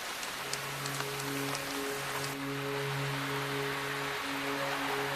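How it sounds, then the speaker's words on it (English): Rain in the wet forests of western Tasmania, a steady, soft wash of falling drops continuing throughout, with a faint low hum beneath and no voices. "It rains here nearly every day."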